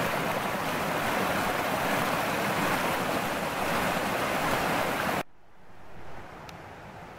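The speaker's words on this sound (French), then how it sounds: "Vous avez vu ce merveilleux torrent là, hein, que je suis en train de quitter" Rushing mountain torrent in the Ardennes, a loud, dense wash of flowing water that fills the first five seconds, then cuts off abruptly to a much quieter, distant background.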